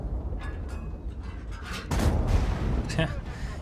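Heavy booming tank cannon shots with rumbling blasts in World of Tanks, firing a PzKpfw VII, over steady background noise, with people talking throughout.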